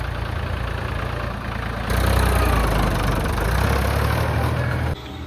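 A farm tractor that has stood unused for three months in dust and dirt starts up, its diesel engine settling into a loud, steady idle with a low rumble that surges louder after about two seconds and then drops back near the end.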